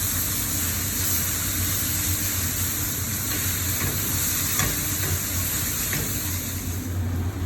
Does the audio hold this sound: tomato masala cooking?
yes